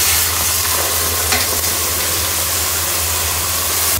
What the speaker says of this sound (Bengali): একটু তেলের মধ্যে পেঁয়াজ দিছি